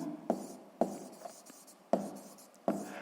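A pen or pencil scratches out a math step on paper in four distinct bursts of writing strokes, close and clear, with quieter scribbling between them and no voices.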